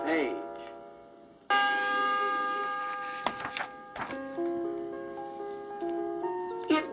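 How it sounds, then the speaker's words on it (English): A page-turn chime on a 1979 book-on-record: several clear bell-like tones ring out and sustain, the loudest striking about a third of the way in, followed by more ringing notes, with no talking. "when you hear the chime, turn the page."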